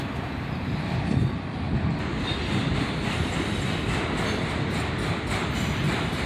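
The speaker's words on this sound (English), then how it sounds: "Most of the trains we got this day were Autoracks, and they were all pretty long" A long CSX autorack freight train rolls past close by, a loud, steady rumble of wheels and cars that carries unbroken from start to finish with no voices.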